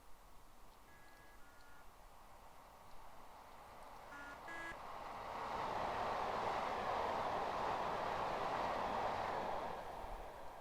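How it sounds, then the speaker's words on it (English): A train in Train Simulator 2017 passing through a station, a rumbling wash of wheel and rail noise swelling from moderate to loud, with a few faint beeps and tones early on. "there's a train coming. Get out of the way."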